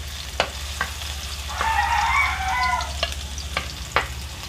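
Garlic frying in a little oil for pork belly binagoongan, a soft crackling sizzle that swells in the middle, with sharp utensil clicks scattered around it and a rooster crowing in the background.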